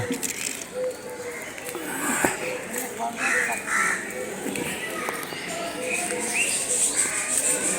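Birds at the aviary of the Ramakrishna Mission Ashrama in Ramharipur, Bankura, call with crow-like caws and chirps at moderate distance, under steady outdoor ambience while a person talks.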